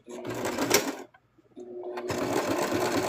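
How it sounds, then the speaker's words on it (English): Sewing machine stitching a plush monster, running loud and close in a whirring burst, pausing briefly, then whirring steadily again. "So I'm actually going to sew just a little bit more."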